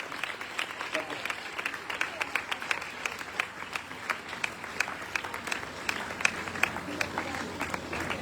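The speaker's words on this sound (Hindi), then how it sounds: "भरपूर तालियां, भरपूर तालियां, अभी कम है तालियां की" Congregation applauding at a church gathering, a sustained crowd of clapping with sharp individual claps standing out, accompanied by talking.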